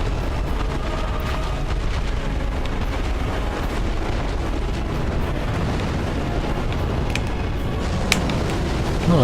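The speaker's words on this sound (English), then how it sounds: "Now he's gotta get away from the explosion nova." In Dark Souls 3, the dragon Midir's explosion nova blasts out as a dense, sustained roaring rumble with continuous crackling bursts, loud throughout and heard from a distance.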